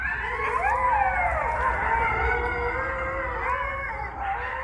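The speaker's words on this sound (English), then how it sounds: "This is the sound of red wolves." Red wolves howling at a site on the North Carolina State University campus in Raleigh: several overlapping, rising and falling howls, steady and fairly close throughout, with no talking.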